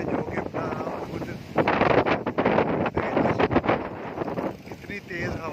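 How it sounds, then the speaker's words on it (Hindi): Strong storm wind roaring and gusting against the microphone in bursts, with a voice faintly audible underneath. "कितनी तेज़ हवा चल रही है"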